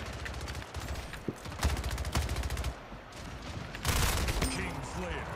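Shotgun blasts in the arena shooter Splitgate, several sharp loud bursts scattered through a busy mix of game effects and chatter from players talking.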